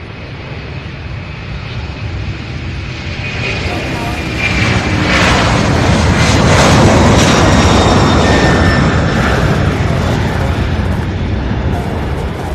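A heavy airliner at Louisville's SDF airport on runway 35 left roars through its takeoff run, a broad rumbling jet blast that swells and peaks midway, then holds loud and steady; a tower radio exchange is faintly audible underneath.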